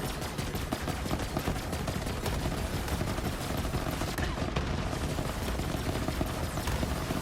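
Sustained rapid gunfire from Borderlands 3, a fire-element weapon melting through an enemy's shields, loud and continuous with dense rattling bursts throughout.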